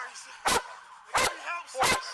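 A police K9 dog barks three times in loud, evenly spaced bursts, close by, with some background noise between barks.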